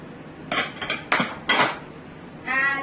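Garlic and onion tossed in a metal pan with potatoes, giving four quick rattling clatters of food and metal close up, then a brief higher ringing scrape.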